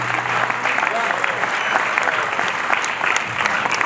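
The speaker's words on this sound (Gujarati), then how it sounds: "જોરદાર તાળીઓ થઈ છે મિત્રો." A crowd claps for children being honoured as winners at a drug awareness event. The applause is dense and steady for about four seconds, with a faint voice underneath.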